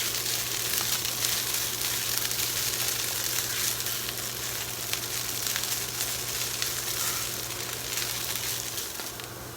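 Hash browns frying in a pan, a steady loud sizzle with crackling spatter throughout, close up and alone without talk.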